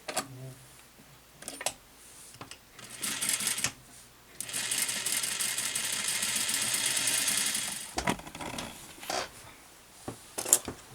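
A sewing machine stitches along the edge of a pullover blouse, its needle rattling in short bursts at first and then running steadily for several seconds before stopping, followed by a few light clicks and handling noises.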